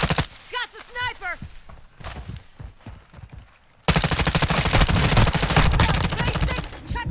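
Rapid automatic gunfire from a Call of Duty: Modern Warfare II match erupts loudly in the second half, a dense continuous rattle of shots following shouted voices and scattered earlier bursts.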